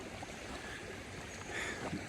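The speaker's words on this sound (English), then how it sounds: "and I turn the water on now" Water runs through a repaired pond waterfall pipe, a steady, soft rushing and splashing flow that continues evenly throughout at low volume with no talk.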